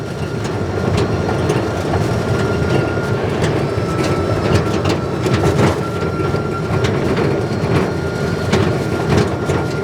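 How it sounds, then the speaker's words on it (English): A Landmaster AMP electric UTV is driven, producing a steady, loud rolling rumble of tires and chassis noise with faint rattles and no engine roar, and no one speaking. "this is a whole different feeling driving a UTV, an electric UTV versus a gas one"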